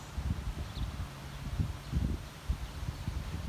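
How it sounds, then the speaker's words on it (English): Gusty outdoor wind buffets the microphone in uneven low rumbles, with faint rustling and no talking. "Pretty windy."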